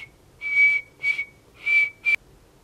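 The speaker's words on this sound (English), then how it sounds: "I've been trying to whistle for so long" A person whistles a steady, clear note in four short bursts, close and alone, with brief pauses between them.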